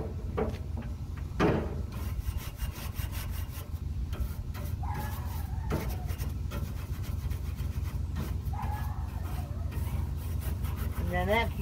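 Scrubbing on a smoker grill being cleaned for storage makes repeated rough rubbing and rasping strokes at close range, with a voice talking over them.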